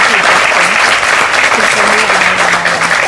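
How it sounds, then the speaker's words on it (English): An audience applauds in a hall at an Arangetram dance debut, steady dense clapping that holds at the same loud level, with voices faintly under it. "Another round of applause to her for this"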